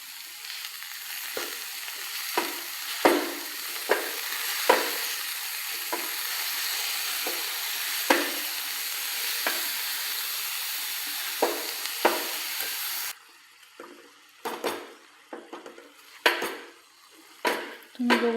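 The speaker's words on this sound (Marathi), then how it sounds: "याला मी आता छानपैकी असं परतवून घेते" Chopped fenugreek leaves sautéing in a pan for a spicy methi thecha, a steady sizzle broken by repeated scraping and stirring clinks of a spoon against the pan, close and continuous.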